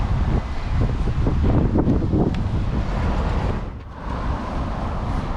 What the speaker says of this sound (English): It's pretty windy, man.